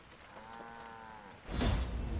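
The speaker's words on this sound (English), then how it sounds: "unattended cows trampling grain" Cows low in the video game Thronebreaker: The Witcher Tales, a drawn-out moo followed by a louder, rougher bellow near the end, with no talk over it.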